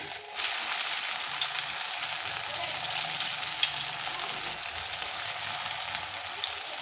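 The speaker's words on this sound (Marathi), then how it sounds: "आपलं तेल चांगलं तापलेलं आहे, तर आता आपण हे वड्यात टाकून घेऊया." Coriander vadi dropped into hot oil and deep-frying, giving a steady, loud, close sizzle that starts abruptly and continues unbroken throughout, with no talking.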